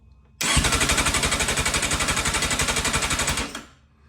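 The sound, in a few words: Kawasaki Thundercat motorcycle engine cranking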